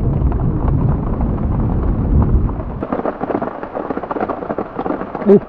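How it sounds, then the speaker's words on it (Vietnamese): Heavy rain pours through a forest with a deep rolling rumble of thunder, loud and close at first, then thinning to steady patter and scattered drops. "Càng đứng càng mưa"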